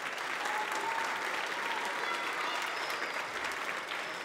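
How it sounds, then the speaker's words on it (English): A church congregation at a year-end children's choir program gives a round of applause for the TV and sound crews, even, continuous clapping across the whole stretch, somewhat distant. "Can we give them a round of applause as well?"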